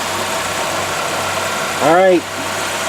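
A 1999 Ford Ranger engine of 153 cubic inches and 119 horsepower idles with a steady, low rumble while someone speaks briefly over it.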